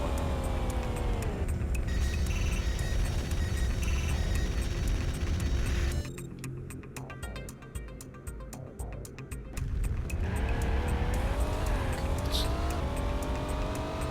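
A car in the Knight Rider 2 video game on PS2 drives and turns with a loud, continuous engine drone that rises and falls in pitch. Tires squeal and revs surge in the middle, then the steady engine tone resumes.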